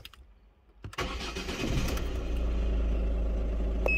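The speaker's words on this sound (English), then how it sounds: "Turn ignition on." A Ford Focus Mk2 diesel engine cranks briefly and catches, then settles into a loud, steady idle with a deep clattering rumble, close by and without talk.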